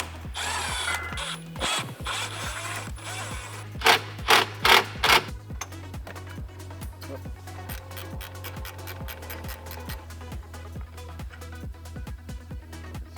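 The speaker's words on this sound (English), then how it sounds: "we'll have to remove 4 screws, 1 on top and 3 in the back." Headlight screws come out of a vehicle under a power tool that whirs and clicks in short repeated bursts, close up over a steady mechanical hum, with a few louder spurts in the middle.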